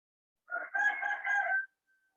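A rooster crows once, nearby and clear, a single multi-part call of about one second against otherwise quiet surroundings.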